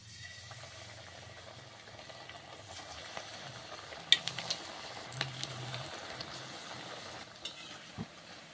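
Cabbage pakoras fry in oil in a wok on low heat with a faint, steady sizzle, interrupted by a few light clinks and scrapes of a utensil near the pan.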